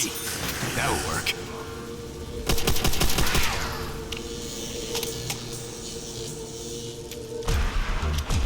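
Machine gun fire in a video game, rapid bursts of gunfire with mechanical clatter, loud and close, in short runs with a gap between them, over a steady game background.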